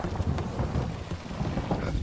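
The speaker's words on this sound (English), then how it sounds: "And it's raining." Steady rain in the video game Mafia: Definitive Edition pours down with a dense, even hiss and low rumbling underneath, continuous throughout with no voices.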